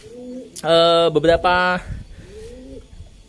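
Super homing racing pigeons give a short burst of throaty cooing close by, with someone talking softly before and after.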